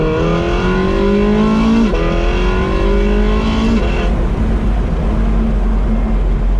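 A Porsche 918 Spyder hybrid supercar accelerates hard, its engine note climbing in pitch through rapid, immediate gear shifts, loud and close.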